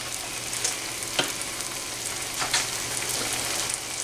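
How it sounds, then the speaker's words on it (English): Butter and minced garlic sizzle steadily in a pan, a dense continuous frying hiss with a few faint stirring ticks, close and even. "We'll let this butter melt, stir everything in."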